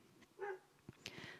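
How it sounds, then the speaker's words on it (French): A dog barks in a home setting, a few short, muffled yelps and woofs heard at a distance, fairly faint, with no talking. "C'est mon chien qui aboie."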